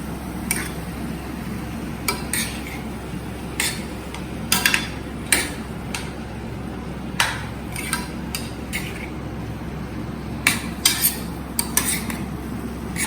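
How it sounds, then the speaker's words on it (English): A spoon stirs bottle gourd cooking in milk in a pot over a high flame, with intermittent metallic clinks and scrapes against the pot over a low steady hum. "Then stir."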